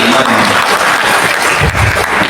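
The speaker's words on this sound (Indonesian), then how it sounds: "tepuk tangan buat mereka yang hadir di sini" Audience applause at a year-end reflection gathering of a Betawi ethnic community council, a dense, steady burst of clapping from a large crowd that fills the whole moment at close range.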